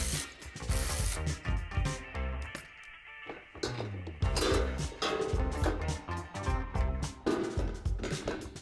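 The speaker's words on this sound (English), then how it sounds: "I'm going to remove these 8 bolts holding the plastic trim to the metal bumper." Bolts being removed from the plastic trim on a Jeep JL's stock metal bumper, with a dense, continuous mechanical whirring and ratcheting, close and loud, briefly dipping near the middle before resuming.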